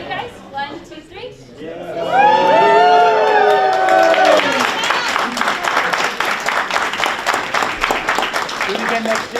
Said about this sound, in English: Can we do one more cheer with the board in there?